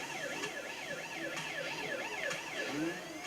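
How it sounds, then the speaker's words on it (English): A police car siren in the video game Need for Speed Rivals wails in a fast, repeating up-and-down sweep, steady and moderately faint over a low engine bed. "L1 turns your sirens on and off."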